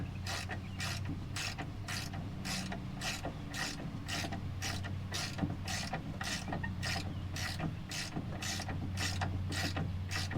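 A ratchet wrench tightens a 22 mm strut bolt on a Honda Ridgeline's rear suspension, a fast, steady run of metallic clicks repeating evenly for the whole stretch, close up and without speech.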